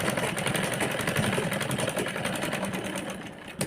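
A sewing machine stitches a crop top in a fast, steady whir of needle strokes that runs continuously up close with no talking.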